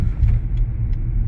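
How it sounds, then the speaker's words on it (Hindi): A Maruti Brezza's engine drones loud and close as it is revved past 2000 rpm, a steady low rumble with faint cabin rattles and no speech. "जब आप गाड़ी को रेव करोगे 2000 आरपीएम से ऊपर, तो एक साउंड गाड़ी में आनी जरूर हो जाती है"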